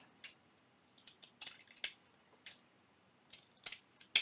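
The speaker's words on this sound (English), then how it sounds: "I have this lace that's kind of dainty and it's very wide, and I'm just going to cut it in half" Scissors snipping through wide, dainty lace, a series of crisp separate cuts in irregular rhythm, close and quiet against a silent background.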